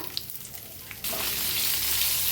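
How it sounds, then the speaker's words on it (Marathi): Cumin, asafoetida and chopped onion hit hot oil for masala bhindi, and a sudden loud, steady sizzle bursts in close and keeps frying continuously after a quiet start. "आता तेल चांगलं गरम झालंय त्याच्यात टाकूया एक चमच्याभर जिरं हिंग कांदा आपण कापून घेतलेला"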